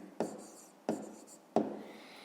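Numbers written by hand in a 5th-grade maths exercise, three distinct scratchy pen strokes spaced evenly about two-thirds of a second apart, close and quiet with no talk.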